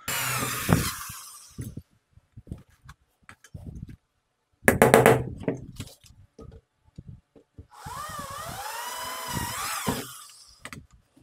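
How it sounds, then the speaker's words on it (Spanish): A power drill whirs in several bursts while boring a hole during assembly of a VHF-UHF TV antenna, the last burst long and steady, with short knocks and handling clatter between runs. "Ahí voy a perforar utilizando un taladro."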